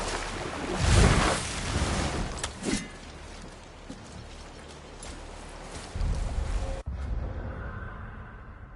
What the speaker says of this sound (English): Wow. I've never seen a waterfall so big.